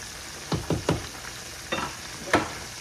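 Pork chops coated in Shake and Bake frying in a pan, a quiet background sizzle broken by several sharp scraping stirs and flips, close by with no talking.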